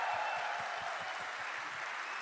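Audience applause at an Amway business meeting, a brief loud burst of dense, steady clapping from a crowd with no talking.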